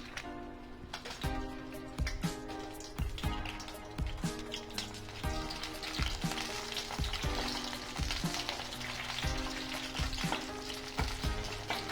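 Dried red chillies fry in hot oil in a pan for tomato chutney, a continuous close crackling sizzle with repeated clinks and scrapes of a stirring spoon against the pan, no talking.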